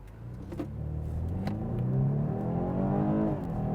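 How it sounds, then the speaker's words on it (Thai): A BMW 430i M Sport in Sport Plus mode accelerates hard from 0 to 100 km/h, its engine note rising steadily through the gears with a brief shift dip, heard from inside the car without talk. "อันนี้ 0 ถึง 100 นะครับสปอร์ตพลัสนะครับ"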